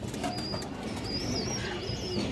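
Pigeons of a fancy flying breed cooing in a loft, soft repeated coos with a few higher chirps over a constant background hum, no talking.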